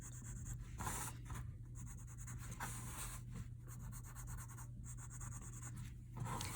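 Graphite pencil shades a small Zentangle paper tile in soft, quiet scratchy strokes, a close rhythmic rubbing with brief pauses between strokes.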